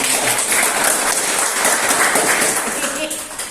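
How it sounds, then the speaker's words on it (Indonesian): A classroom of schoolchildren claps together during a lesson, a dense burst of applause that tapers off near the end. "tepuk tangan untuk kita"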